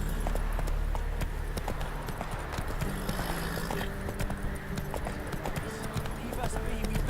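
A horse gallops in The Witcher 3 Blood and Wine, with steady rapid clip-clop hoofbeats running throughout over game ambience, while voices speak over it.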